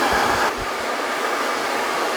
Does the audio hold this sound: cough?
no